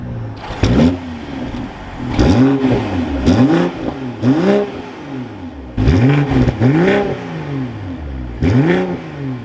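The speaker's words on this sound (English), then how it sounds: "Let's fire this M340i back up though with my foot on the brake." A 2023 BMW M340i engine fires up, then revs repeatedly, each blip rising and falling in pitch in a loud, close series of about six revs with brief pauses between.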